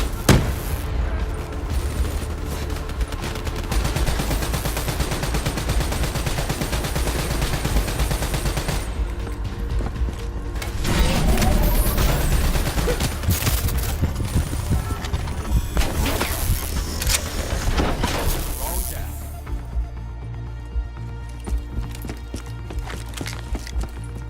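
Gunfire in a Call of Duty Black Ops 3 campaign battle crackles in dense, overlapping bursts and loud shots, mixed with running footsteps and hectic combat noise before it thins out near the end.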